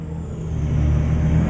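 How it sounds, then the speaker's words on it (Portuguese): A heavy truck engine idles and revs steadily, a deep continuous rumble that builds slightly in loudness, close by with no talking. "Escuta só o ronco que tem esse caminhão"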